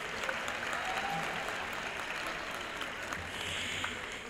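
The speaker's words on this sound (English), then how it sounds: "we can give him a nice round of applause" An audience at a school committee meeting gives steady, continuous applause for a spelling bee winner, a soft, fairly distant wash of clapping that holds at an even level throughout.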